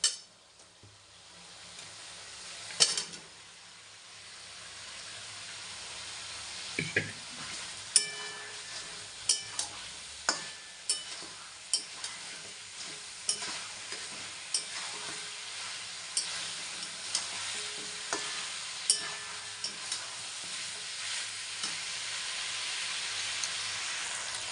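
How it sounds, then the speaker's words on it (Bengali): Meat frying in spiced masala in a pan, a long steady sizzle and hiss punctuated by repeated sharp scraping stir strokes at a regular pace. "এখন আমি মাংস দিয়ে দেবো।"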